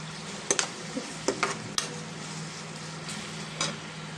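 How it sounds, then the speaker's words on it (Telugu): Onions and green chillies frying in a pan with turmeric for chicken fry give a constant sizzle, with several sharp spatula scrapes and taps scattered through it. "మనకు ఉల్లిపాయలు, పచ్చిమిర్చి ఫ్రై అవుతున్నాయి కదండి."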